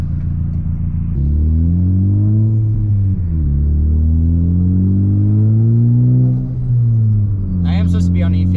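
A built Ford Focus ST with a Garrett G25-660 turbo accelerates, heard from inside the cabin with the window cracked. The loud engine drone climbs in pitch, dips at two gear shifts, then ends with a brief hiss.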